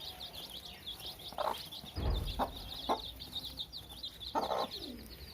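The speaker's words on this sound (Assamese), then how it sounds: "আৰু এইকেইটা পোৱালি চাওক, চাওক কিমান ধুনীয়াকৈ খাইছে।" Chicks on a low-cost poultry farm cluck and cheep softly while feeding, small scattered calls and pecking noises close by over a faint high background hum.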